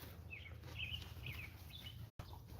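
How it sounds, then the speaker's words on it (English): Several short, high bird chirps ring out at a distance over a low, steady outdoor rumble. "listen to the birds."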